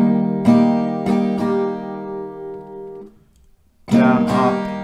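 Acoustic guitar strummed in a down-up pattern: three ringing chord strokes, a brief near-silent pause, then two more bright strums, close and clear with no talking.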